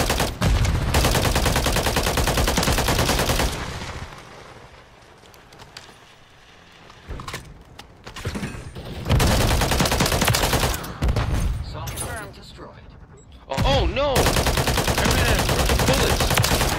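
Rapid gunfire in Modern Warfare 3 multiplayer, loud bursts of automatic shots in long sustained volleys, broken by a quieter lull in the middle before firing resumes hard.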